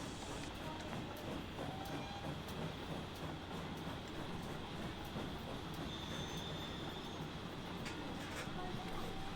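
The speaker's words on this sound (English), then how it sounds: "we've already got trains going" Steam and diesel trains run on the Paignton coast line in Transport Fever 2, a steady rumble of rolling wheels with occasional squeals and clatter filling the whole stretch, under a faint game ambience.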